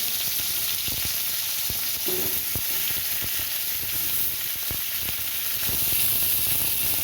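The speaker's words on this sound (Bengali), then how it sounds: "বেগুনগুলো আমি ভালো করে চাপা দিয়ে দিয়ে ভেজে নেব" Eggplant pieces rubbed with salt and turmeric sizzle and fry steadily in hot oil in a pan, a continuous crackling hiss with a few small pops, with no talking.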